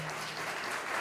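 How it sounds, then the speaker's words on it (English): Brief, quiet applause from an audience at a school parent meeting, a soft even patter of clapping lasting about a second. "I'd like to introduce him if you can give him a round of applause."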